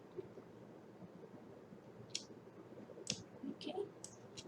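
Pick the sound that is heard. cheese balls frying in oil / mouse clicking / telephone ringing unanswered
mouse clicking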